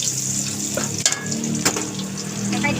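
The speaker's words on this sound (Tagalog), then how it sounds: "Igigisa na lang natin. May tayo ng bawang." Garlic and onion sautéing in rendered pork belly fat for dinuguan, a steady crackling sizzle close by with a couple of sharper spatula knocks against the pan.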